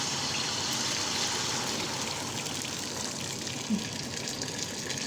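Water pouring steadily into a cooking pot for boiling pasta at home, a continuous close gush with no talk over it.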